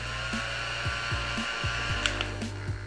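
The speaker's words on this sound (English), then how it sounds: "Basically, it's like a vacuum cleaner for your table." A small pink, gray, blue or green mini table vacuum cleaner runs with a steady, close whirring motor hum, broken by light repeated clicks and taps as it is moved across a tabletop. No voices.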